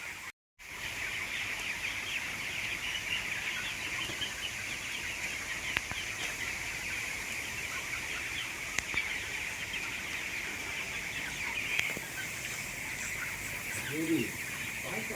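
Chickens and chicks cluck and peep over a steady hiss of outdoor background noise, soft and scattered throughout.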